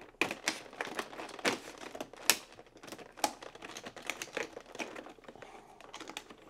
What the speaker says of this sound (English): Now, when you cut the plastic like this,